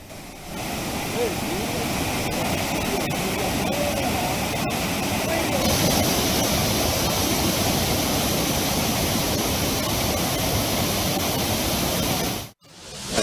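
Waterfall near Mothugudem and Kolluru in heavy flow after rains, a loud continuous broadband roar that stays steady throughout before cutting briefly near the end.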